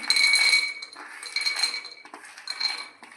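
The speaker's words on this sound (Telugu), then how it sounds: "ఫస్ట్ నేను పల్లీలు వేస్తున్నాను." Peanuts rattle and clink into a metal pan for a capsicum masala curry, a bright scattered clatter over about three seconds with a brief pause midway, close and fairly loud, no voices.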